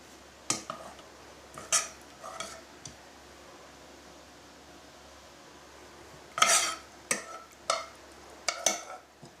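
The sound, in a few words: spooning and stirring sauce over hake fillets in dish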